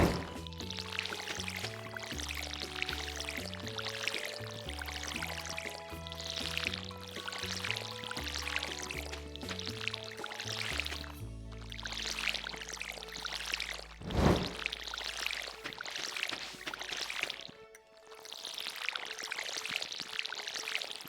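Stardew Valley watering can splashing water onto crops, a steady pouring sound set over looping game music with a brief splash burst near the end.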